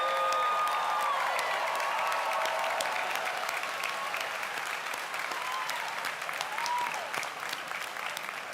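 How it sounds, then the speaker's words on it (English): Applause for alumni at a college commencement ceremony, a large crowd clapping steadily in a big space, sustained and even, with scattered cheers and a few rising whoops over the clapping. "Let's give them a big round of applause."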